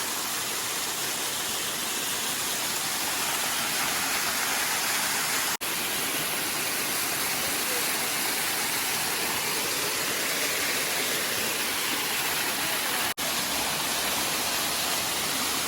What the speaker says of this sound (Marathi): सुंदर असा धबधबा आहे